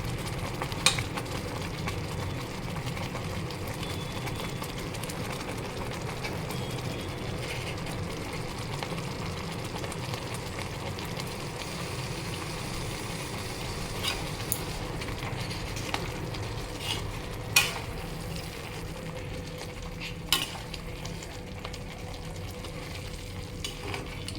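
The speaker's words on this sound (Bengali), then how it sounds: "কিমাটাও দিয়ে দিলাম, নিয়ে এবার ভালো করে ভাজবো" Minced meat filling for momo fries in a hot pan with a steady, moderate sizzle, punctuated by occasional sharp clicks and scrapes as it is stirred.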